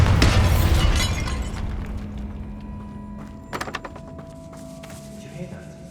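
A Bombarda blasting spell from Hogwarts Legacy goes off with a loud, crashing, shattering burst, then rumbles and rings away, with a few sharper debris knocks and clatters in the tail.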